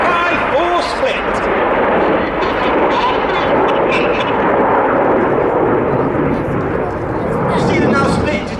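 Red Arrows jets fly the 5-4 split manoeuvre at the Shuttleworth Festival of Flight air show at Old Warden: a loud, steady jet roar fills the whole clip with a broad rushing rumble while a voice speaks over it.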